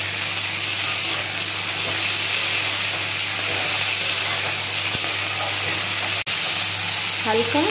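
Ivy gourd (kundri) sizzling in hot oil in a pan, a steady bright frying hiss throughout with a brief sharp clink near the end, close and fairly loud.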